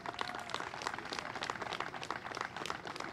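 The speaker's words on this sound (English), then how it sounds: "If you could give them a round of applause" Applause for the South Boston Veterans Group at the Medal of Honor Park opening, an even patter of many hands clapping, quiet and somewhat distant, with no talking over it.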